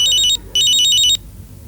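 A phone rings electronically in two short bursts, the second longer, trilling brightly before cutting off into quiet room noise.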